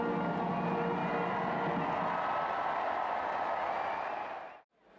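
A large adoring crowd cheers and applauds Queen Elizabeth II as she waves from a balcony, joined by three generations of her family; a dense, steady roar of voices and clapping that fades out abruptly at the end.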